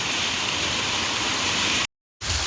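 A torrential village rainstorm pours in a constant, full roar of falling water, then cuts to silence for a moment before the rain resumes.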